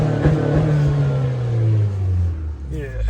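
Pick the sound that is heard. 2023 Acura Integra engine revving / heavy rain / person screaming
2023 Acura Integra engine revving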